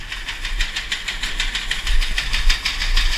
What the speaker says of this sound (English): The auger turns over.